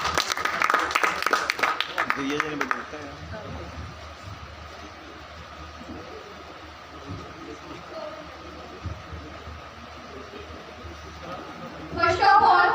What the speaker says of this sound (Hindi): आप लोग जोरदार तालियों से स्वागत करिए